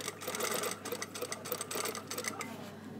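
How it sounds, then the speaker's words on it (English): A sewing machine runs steadily, stitching a line along the welt pocket of a blazer; the fast mechanical rattle is close and continuous, with a brief slowdown partway through. "stitch on the bottom line again"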